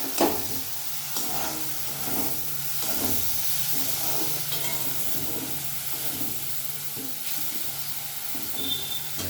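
Coriander and cumin powder paste sizzling in hot oil for a Bengali katla fish kalia, a steady hiss with the crackle of frying and occasional stirring scrapes, close and continuous.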